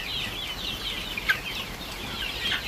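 A healthy live rural chicken clucks among other fowl in a farmyard, with soft repeated clucks and chirpy calls over steady background hiss, no talking.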